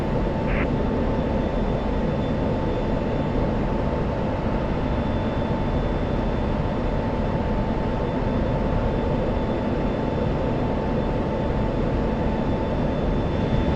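Steady, loud drone of an F-16 fighter jet engine in a flight combat game, a constant broadband roar with a faint high whine, running unbroken with no talk.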